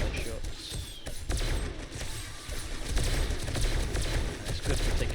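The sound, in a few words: gunshots in the video game 7 Days to Die Darkness Falls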